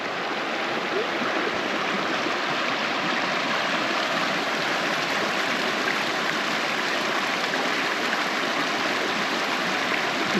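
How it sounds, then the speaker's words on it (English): A babbling brook near Ross Lake, near Hope, BC, flows steadily for the whole stretch, a dense, even rush of trickling water close by with no voices. "A little babbling brook to put you to sleep every night."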